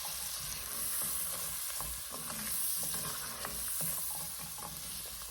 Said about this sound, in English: we're just going to stir this around until the onions are translucent